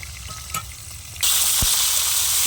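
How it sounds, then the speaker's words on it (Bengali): Fish slid into hot oil in a home kitchen pan sets off a sudden loud, steady sizzle that fills the rest of the moment, preceded by quieter kitchen noise. "মাছ দিলাম তেলের মধ্যে।"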